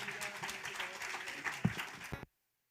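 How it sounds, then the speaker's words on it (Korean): A church congregation applauds at a winter Bible school gathering, a moderately faint wash of clapping lasting about two seconds before cutting off abruptly into silence. "우리 박수 한번 하겠습니다"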